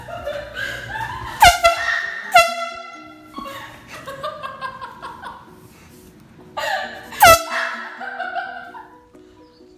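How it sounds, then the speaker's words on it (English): Indoor air horn blasts used to grab a child's attention, three loud sharp blares spread across the stretch, with short laughter and chatter in the quieter gaps between them. "the air horn was super effective for getting your child off their mobile device"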